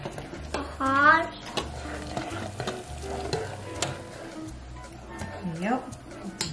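Boiling almond roca toffee is stirred in a pot on a stove, with scraping and bubbling under nearby talk and a voice.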